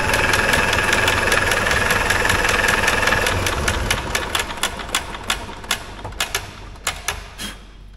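A 1960s Caterpillar pony engine with a sticking valve runs with a rapid chugging clatter, then slows into uneven, spaced pops and knocks as it winds down.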